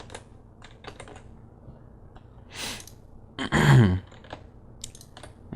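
Number keys tapped on a Jands Vista lighting console keypad: scattered quick, light clicks close by, with a short breathy exhale partway through and a single spoken word.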